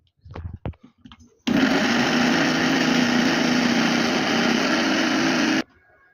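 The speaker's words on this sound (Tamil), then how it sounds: "இப்போ மிக்சி ஜாரோடைய மூடி போட்டுட்டு மிக்சியில் அரைக்க போகிறோம்" A mixer grinder blends watermelon juice in a lidded jar, a loud, steady motor whir running about four seconds and then cutting off abruptly, preceded by a few brief knocks.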